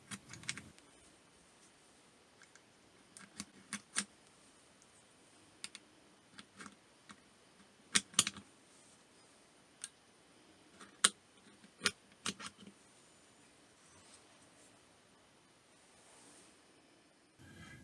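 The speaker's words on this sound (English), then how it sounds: "Load a magazine with snap caps" Snap caps are loaded one by one into a Hi-Point 4595TS magazine, giving sharp metallic clicks and snaps in irregular clusters, close and quiet, with no talk.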